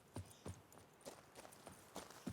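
Horse hooves clip-clop at a steady walking pace in The Witcher 3: Blood and Wine, about eight evenly spaced soft thuds over a faint ambient background, no talk.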